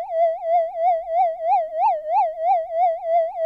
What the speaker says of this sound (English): you can find a point somewhere where you can only hear the amplitude modulation